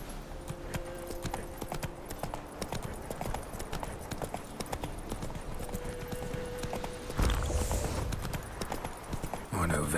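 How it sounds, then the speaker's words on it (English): Steady horse hooves clip-clop in a continuous rhythm over an ambient background in the video game The Witcher 3, with a brief louder bump near the end. "Horses!"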